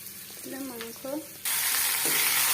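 Meat goes into hot oil in a pan and bursts into a loud, sudden sizzle that keeps hissing steadily, after a quieter opening with a brief voice.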